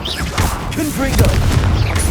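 Explosive Confringo spell blasts in Hogwarts Legacy combat, a few loud booms and bursts layered with game effects and a shouted voice across a busy two-second stretch.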